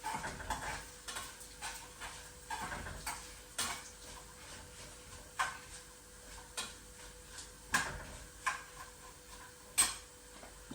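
Coriander seeds, black pepper and cumin seeds being sautéed dry in a pan for a Kerala mutton curry, with soft scraping stirs and irregular spoon taps against the pan over a quiet, faint sizzle.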